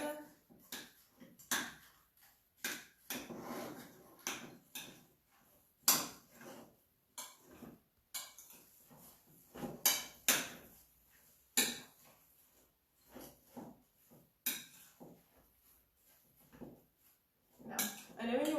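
Apple pieces and walnuts being stirred together in a bowl, producing a steady run of close clinks, scrapes and taps of a utensil against the dish with irregular rhythm.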